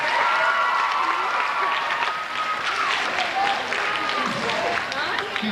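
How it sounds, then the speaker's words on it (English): A school gym audience at a middle school science fair awards and pep rally breaks into sustained applause, a dense, even clatter of many hands clapping with some crowd voices mixed in. "Give Mr. Shuttleworth a nice round of applause."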